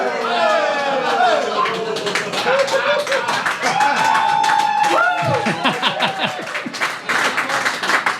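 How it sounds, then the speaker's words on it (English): Comedy club audience at a stand-up show bursting into sustained applause mixed with laughter and some cheering, dense and close throughout. "you guys applauded at that"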